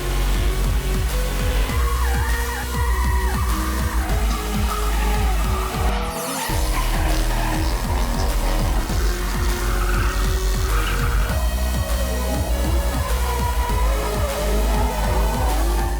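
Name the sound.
cars drifting with tire squeal at drifting exhibition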